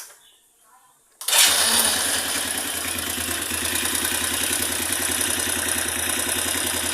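A motorcycle engine with a freshly tuned carburetor starts after about a second of near silence, then settles into a loud, steady idle with a fast even putter close by.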